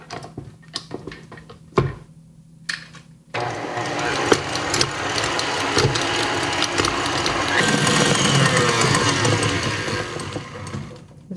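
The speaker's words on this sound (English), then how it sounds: "And now I whisk this until it is really, really foamy." Electric mixer whisking sugar and eggs until foamy for a spelt flour carrot cake, a continuous close motor whir with rattling beater noise that starts after a few seconds of clinks and carries on steadily.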